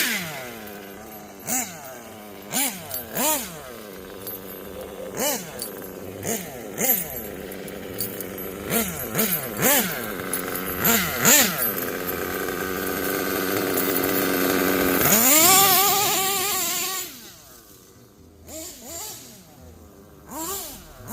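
A Kyosho USA-1 Nitro V2 3-speed RC monster truck's nitro engine screams at full throttle. It makes repeated rising and falling revs in short bursts, then one long sustained high-pitched wail before it drops away near the end.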